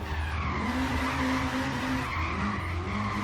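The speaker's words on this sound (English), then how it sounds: "let's see if this thing will drift" A heavy BMW X5 twin-turbo street build drifts in Forza Horizon 3, its tires skidding in a steady, loud squeal over a deep, sustained engine drone that holds for the full stretch.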